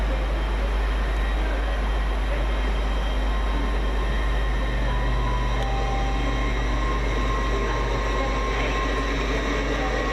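Great Western Railway class 800 unit 800 002 pulls into platform 11 at Reading station, a constant loud rumble with a deep low hum and faint squealing tones throughout, no voices.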